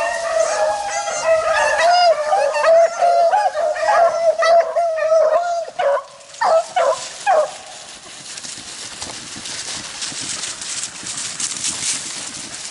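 Beagles running a rabbit track give a steady chorus of baying and barking outdoors, then several sharp separate yelps before the pack falls quieter into distant noise.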